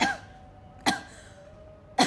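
Three short, sharp coughs from one person, close and spaced about a second apart, with quiet background between them.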